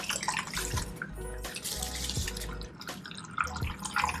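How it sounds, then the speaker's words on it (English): Water pours steadily into the reservoir of a self-watering planter holding a calathea plant, a close, continuous trickle and splash with small gurgles throughout. "I'm gonna water the plant through the water reservoir here"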